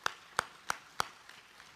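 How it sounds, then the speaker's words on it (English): Scattered claps from a commencement audience, four sharp hand claps spaced about a third of a second apart, then a few fainter ones trailing off, fairly distant and thin in a large hall. "Let's give them a big round of applause."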